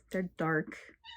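A house cat meows in a room, mixed with and partly overlapping a person speaking nearby.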